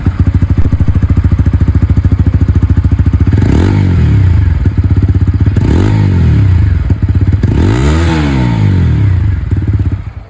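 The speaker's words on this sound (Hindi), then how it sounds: "ये दोस्तों आप लोगों ने यहाँ पर जो बुलपअप एग्जॉस्ट थी उसकी आवाज़ यहाँ पर सुनी है" A Bajaj Pulsar N160 with a bullpup exhaust idles loud and close with a rapid, steady thumping beat, blipped into three short revs that rise and fall before settling back; no voices.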